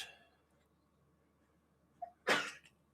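A single sharp sneeze in a quiet room, preceded by a brief inhaled catch, close and fairly loud against near silence.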